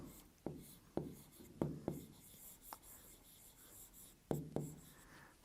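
Numbers being written by hand during a maths lesson, a series of faint tapping and scratching marks with short pauses between strokes, close and quiet.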